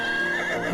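A horse gives a brief, loud, shrill whinny up close, a quick strained cry with no talking over it.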